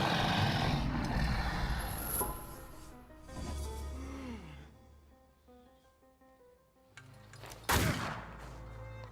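Pistol shots in The Thaumaturge, a game: a few sharp bursts spaced across the stretch, with a loud crack near the end, set among swooshing effects and ringing musical tones in a quiet soundscape.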